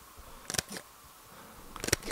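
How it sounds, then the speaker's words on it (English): A couple of crisp, quiet mechanical clicks from a Leica M11 rangefinder camera shutter, each a quick double snap, separated by a short silence in a quiet room. "This shutter sounds so incredible and it feels like you are making a photo."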